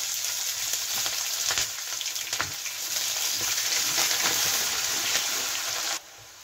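Steady, loud sizzling of onion and green chili frying in hot oil, crackling continuously for several seconds before dropping off abruptly near the end.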